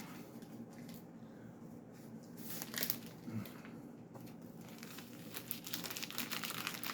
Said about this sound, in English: Take this out of a really mucky bag and board